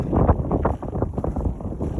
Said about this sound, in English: Nice windy day.